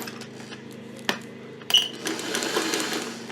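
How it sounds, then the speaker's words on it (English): A sewing machine stitching a crazy quilt block, heard as a steady low mechanical whir with a few sharp clicks and clacks, at close range and without talk. "You just have to sew a couple stitches and keep turning."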